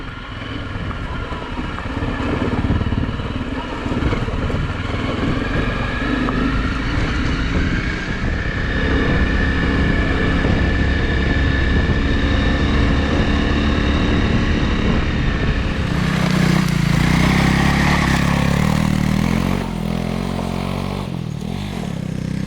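Adventure motorcycles ride along a road in Italy's Friuli region, their engines a loud, steady roar mixed with wind rush, shifting in tone partway through as the ride continues.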